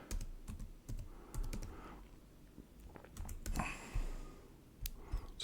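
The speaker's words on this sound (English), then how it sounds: "So we're going to type in our password." Password being typed on a computer keyboard, close and fairly quiet, with irregular clusters of light key clicks and a few louder taps separated by short pauses.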